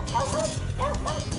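Small family dog barking and snarling in a fight against an Australian snake, close and agitated, with a narrator's voice running over it.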